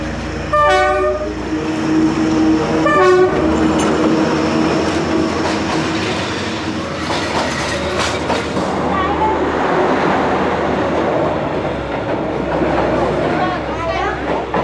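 A train rumbles past on the tracks in Hanoi, Vietnam, with a loud, continuous roar, its horn sounding twice near the start, while voices talk underneath.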